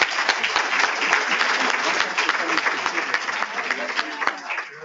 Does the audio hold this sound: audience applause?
yes